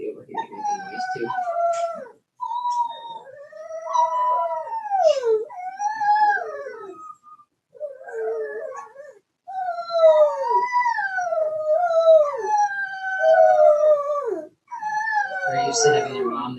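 Young Cane Corso puppies howl and whimper in a litter, a string of high, wavering, sliding cries with short pauses between them, close and clear.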